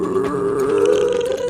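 A low, steady guttural drone with a wavering tone from the strider, a video game creature, as it retreats, continuous and loud throughout.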